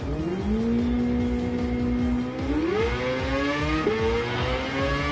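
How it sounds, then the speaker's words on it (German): A car in a racing video game revs high as it drifts, its engine note holding steady and then climbing in two quick upward shifts, loud and continuous with no talk over it. "Drifting, Baby."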